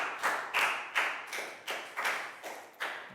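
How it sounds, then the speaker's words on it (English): Small classroom group clapping for a pupil during a children's Year 4 science lesson, about eight sharp claps in an uneven rhythm, close and moderately loud with no talking. "big round of applause for Pat"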